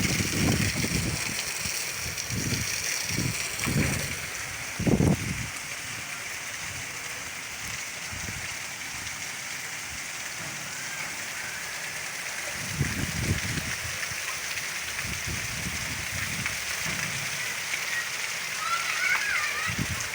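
Heavy rain falls on a village with water running along the streets, a steady wash of rain and flowing water under intermittent voices talking nearby.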